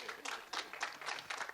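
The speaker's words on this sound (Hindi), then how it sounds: "एक बार इनके लिए जोरदार तालियां हो जाए" An audience at a film promotional event bursts into brief applause, quick bright rhythmic claps close by, rising and falling over a second and a half.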